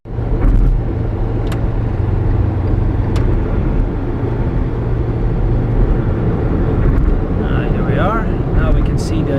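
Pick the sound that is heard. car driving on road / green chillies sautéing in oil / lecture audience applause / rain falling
car driving on road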